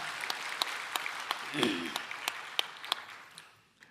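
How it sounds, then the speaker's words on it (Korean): Church congregation at a Sunday worship service clapping in praise, a steady patter of hands with a few sharp, distinct claps standing out, fading away toward the end. "은혜 주실 하나님께 영광의 박수를 올려드리겠습니다"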